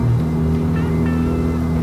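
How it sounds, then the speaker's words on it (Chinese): Engine of a 353 whp Honda Civic Type R FK8 on a mountain road, a steady loud tonal drone with a short pitch shift, heard from inside the car. "那种声音超棒的，有降档补油的时候"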